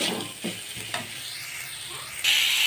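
Chhatu, a mushroom, frying in a pan with ginger-garlic paste and no spices, a steady close sizzle broken by scraping stirs and a few clinks, swelling into a louder hiss near the end.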